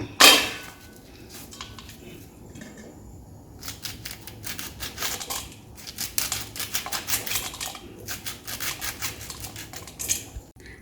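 A knife chops thuvara long beans finely on a board, bursts of quick rhythmic taps separated by short pauses, close and fairly loud, with no talking.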